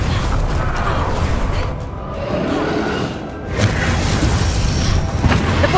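Depulso spell blast in Hogwarts Legacy, a dense rumbling boom with whooshing magical swells in waves, loud and close, with a short dip partway through before the blast surges again.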